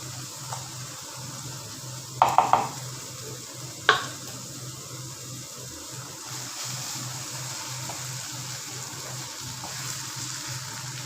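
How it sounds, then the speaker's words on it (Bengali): Dried fish drops into onion gravy frying in a pan, giving a steady low sizzle with a couple of sharp clanks and scrapes from stirring early on. "এখন আমরা এতে অ্যাড করে দিব শুটকিটা দিয়ে দাও"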